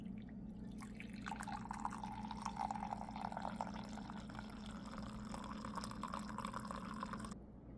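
Coffee brewing from a machine into a cup, a steady trickle of liquid running for about seven seconds over a constant low machine hum, then stopping abruptly near the end.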